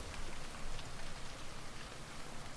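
Steady rain pours down in a visual novel, a dense continuous hiss of falling water with no voices, holding an even level throughout.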